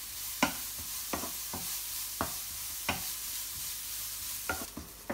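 Grated carrots being sautéed in a pan for carrot halwa, a soft steady sizzle broken by repeated scraping stirs at an uneven pace, fairly quiet and close with no talking.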